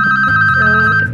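A telephone ringing loudly and close, a steady electronic ring tone held for about a second with no voices.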